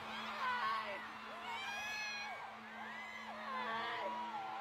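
A concert crowd cheering in a played clip, faint high screams and whoops swelling in waves, with talking over parts of it and a steady low hum beneath.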